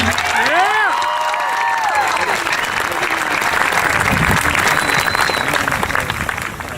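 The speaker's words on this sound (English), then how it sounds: "How about a round of applause for us, Woodland High School class of 2018." A high school graduation crowd applauds and cheers for the class of 2018, loud sustained clapping with whoops and shouts spread across a large audience, filling the whole stretch without a break.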